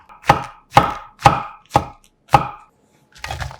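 A knife slices mushroom caps five times in an even rhythm against a cutting board, close and crisp, followed by a softer sixth cut.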